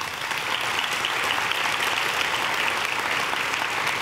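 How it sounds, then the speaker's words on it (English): An audience gives a steady, full round of applause at a business chamber diversity event, a dense, even roar of many hands clapping throughout, with no voices over it. "Please give them a round of applause."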